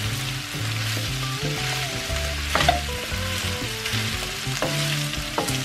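Carrots and potatoes sizzle loudly in a pan for tas kebab as they are stirred, a dense steady frying hiss with a few scraping accents and a faint tonal background.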